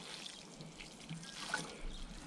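Water trickles softly over freshly planted parsley in a garden bed, a quiet, steady pour and dribble into the soil with no voices.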